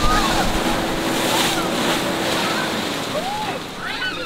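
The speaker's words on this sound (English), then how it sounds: "We are coming up to our second splashdown." Water ride boat on an amusement park ride in Wisconsin Dells splashing down into an artificial lake, a steady broad rush of water and wind noise, with a rider's voice faintly beneath it.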